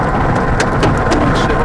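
Heavy hail falling during a tornado, a dense, steady rattle and patter of stones striking surfaces, loud and continuous with sharper impacts mixed in.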